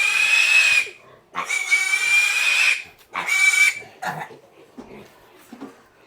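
Piglets 26 days old squealing loudly in three long, shrill bursts, followed by softer grunts and snuffles at close range.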